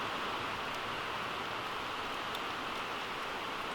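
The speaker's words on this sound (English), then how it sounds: "it just started raining" Steady rain patters in a continuous, even hiss with faint scattered drops, filling the background at a moderate level.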